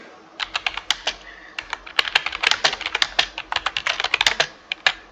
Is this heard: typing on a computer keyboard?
yes